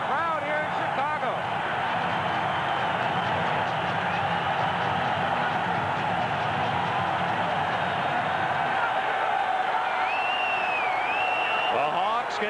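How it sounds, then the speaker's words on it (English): Hockey arena crowd in Chicago roaring after the Blackhawks take the lead with a goal against St. Louis in a 1990 NHL game, a loud sustained wall of cheering that stays dense throughout, with voices woven through it. "Listen to the crowd here in Chicago."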